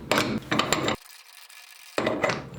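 A cap being loosened from a heat pump line fitting with a crescent wrench, producing close, gritty metallic scraping in bursts separated by a second of near silence.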